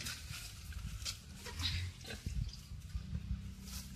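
Pig in its pen gives several low, close grunts and oinks among faint dripping and shuffling noises.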